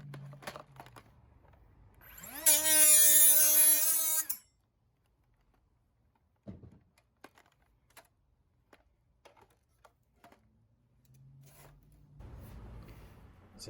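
A Ridgid multi-material saw fitted with a drywall and plastic blade cuts through a plastic Nerf gun in one loud, whining burst of about two seconds, then stops. Scattered faint knocks and handling noises follow, with a low rumble near the end.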